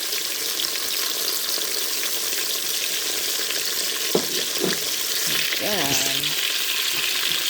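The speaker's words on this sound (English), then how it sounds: "our chicken thighs that are going to be searing for 5 minutes on each side" Chicken thighs sear in a hot pan for a Brunswick stew, giving a constant, close, crackling sizzle with a few light clinks and utensil sounds, while a voice speaks briefly over the frying.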